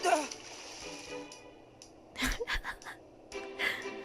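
In the Detective Pikachu video game, a balloon pops above water and something splashes in, giving short bursts of splashing and watery sound over faint background music.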